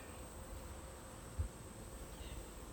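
Honeybees hum in a steady, dense buzz during a backyard hive inspection, close and continuous, with a faint high whine above and a soft thump partway through.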